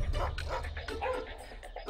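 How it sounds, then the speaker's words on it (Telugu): Neighbouring dogs bark at night in a burst of several quick yaps and woofs at moderate distance, uneven in rhythm, mixed with other low background sounds. "పక్కింటి కుక్కలు నిద్రపోవడం లేదు."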